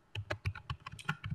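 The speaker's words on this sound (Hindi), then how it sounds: "यहाँ पे आप अपना नेम लिखें बिलफर्ज, जैसे अब्दुल" Someone types a name on a computer keyboard in a quick, uneven run of about a dozen distinct clicky keystrokes, close and fairly quiet, with no speech.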